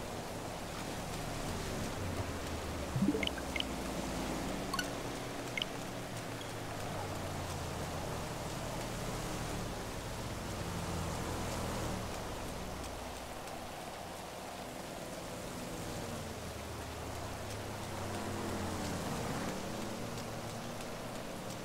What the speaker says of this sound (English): Rain is starting to clear up, though.